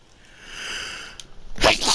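A single sharp sneeze at the end, close and loud, after a quiet stretch with faint background hum in a Grand Theft Auto Online session.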